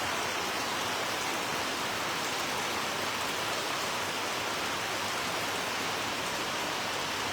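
Rain falls steadily and evenly, a dense, constant hiss heard on its own at close range, with no voices.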